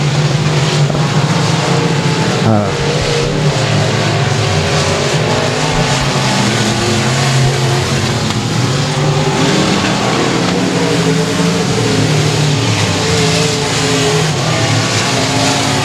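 Race cars roaring around the Sabine Speedway track, a loud continuous engine drone with shifting pitch as cars pass and accelerate, dense and close throughout with no talk.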